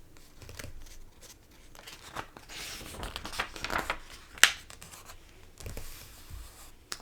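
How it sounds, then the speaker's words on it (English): Paper rustles and crinkles as book pages are turned and smoothed flat, in short uneven bursts with a sharper flick midway. "page turning and smoothing"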